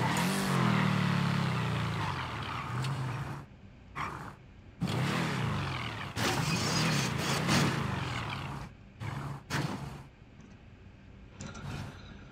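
Car driving in GTA V, an engine roaring and revving loudly in bursts with sudden cut-offs and restarts, close and fairly harsh, with no clear talking.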